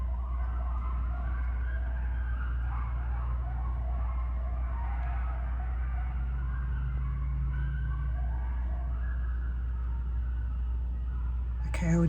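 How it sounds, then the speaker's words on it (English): Coyotes howl on a farm, their wavering, overlapping cries sounding distant and siren-like above a steady low rumble that runs through the whole stretch. "Coyotes are going nuts."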